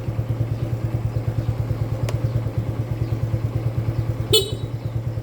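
A motorcycle with a sidecar trailer idles with a steady, fast putter, and a single short horn beep sounds near the end, close and clear.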